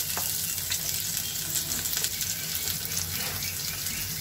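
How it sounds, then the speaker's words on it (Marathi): Onion frying in oil in a pan gives a steady, close sizzle that holds at an even level throughout, with no talking over it. "तेलामध्ये मी सगळ्यात आधी कांदा घातलेला आहे."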